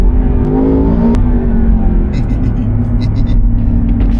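A 626bhp Land Rover Defender Octa with an 8-speed gearbox idles and revs close by, a steady, heavy rumble with a slight rise in pitch. Faint voices come and go underneath.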